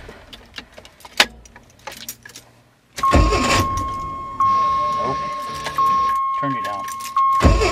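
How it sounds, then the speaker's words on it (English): A 1986 AMC Eagle Limited wagon: keys jangle and click, then the starter grinds briefly and the engine catches, settling into a loud, somewhat rough idle with a steady whine and occasional revs, while someone speaks. "I think it'll try to start up right away, and then it's like an instant grind for the starter."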